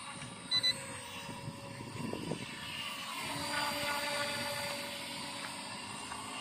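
A toy XK K170 UH-60L Black Hawk RC helicopter with a brushless motor hums and whirs with a steady high-pitched motor whine and rotor drone that swells slightly as it lifts, after a couple of faint handling knocks.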